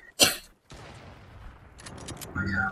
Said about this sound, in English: I'm just shooting a henchman.